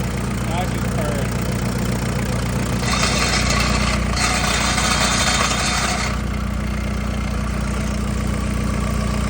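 An ASV RC50 skid steer's engine idles steadily, a continuous low rumbling drone with a brief rise in hiss partway through, close and loud throughout.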